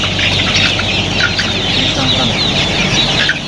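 Chickens cluck and squawk in a dense, continuous chorus inside a cooled poultry farm shed with a blower system, a steady hum of fans beneath the crowded flock.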